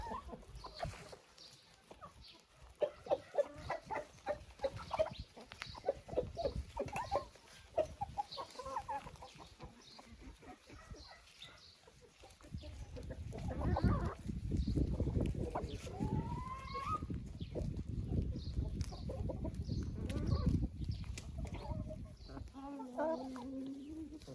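Chickens cluck in a henhouse, with close, scattered clucks at first. Then comes a louder, denser stretch of clucking, rustling and squawks, with a rooster-like call rising among them.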